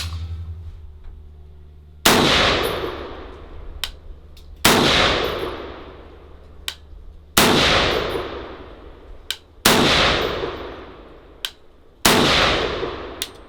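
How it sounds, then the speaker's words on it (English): Five sharp, loud rifle shots from a Chinese M14 clone ring out at an outdoor range, spaced a couple of seconds apart, each with a ringing, decaying echo; no talking. "Let's go ahead and start shooting."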